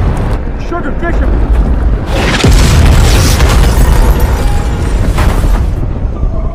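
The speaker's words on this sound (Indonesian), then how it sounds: "musuh juga sudah sempat meluncurkan satu serangan ke arah Sugar dan Bishop sebelum bom yang diluncurkan Reaper tiba" A bomb dropped by a Reaper drone explodes in a war film: one loud, deep boom that swells into a long roaring rumble and a crackling tail, with a voice shouting over it.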